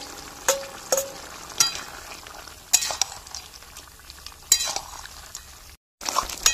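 Fried eggplant, bitter gourd and lentil dumplings stirred in a pan with a utensil, giving intermittent scraping clinks over a faint sizzle, close by with no talking.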